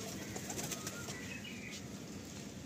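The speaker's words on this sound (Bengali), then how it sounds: "রানিং এই মুহূর্তে পায়রাগুলো ফ্লাই করানো হচ্ছে আর কি।" Pigeons being flown flap their wings in quick bursts close by, a soft fluttering clatter over a quiet background with no talking.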